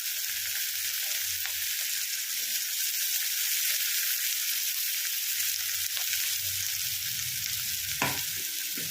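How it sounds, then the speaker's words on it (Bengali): Finely chopped onion frying in a pan for chaal er muri ghonto, a Bengali rice dish, gives a constant close sizzle with occasional low stirring scrapes and a sharp tap near the end. "পেঁয়াজটা ভালো করে ভেজে নেবো"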